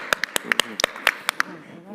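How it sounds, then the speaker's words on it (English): A small audience at an ophthalmology conference session claps sparsely, about a dozen distinct sharp claps spread unevenly over two seconds, close and clear against a quiet room. "A round of applause for our favorite Dr. Donenfeld."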